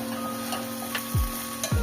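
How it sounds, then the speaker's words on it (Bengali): Spices with chilli powder fry quietly in a pan with a soft sizzle, alongside beetroot and carrot, broken by a couple of sharp clicks and thuds. "মশলাটাকে ভালোভাবে কষিয়ে নেবো"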